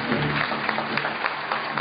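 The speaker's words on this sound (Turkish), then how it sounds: "Efendim kocaman bir alkış" Applause from an audience at a Cappadocia poetry festival in Turkey, a steady, even wash of clapping that carries on through the short span with no break.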